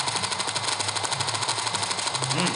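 A rapid, unbroken stream of minigun fire rattles on without pause, dense and mechanical, in the video game GTA: Liberty City Stories on Android.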